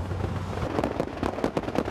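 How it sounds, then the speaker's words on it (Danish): Stored fireworks burn at a fireworks factory fire in Kolding, Denmark, popping and cracking in a dense, rapid volley of loud bangs over a steady roar. "Der er brand i en container med fyrværkeri."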